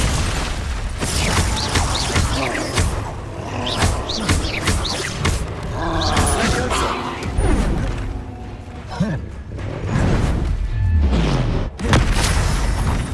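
Confringo and Glacius spells in Hogwarts Legacy fire off as dense, repeated booms and bursts with crackling impacts, loud and nearly continuous, while a voice calls out over the combat.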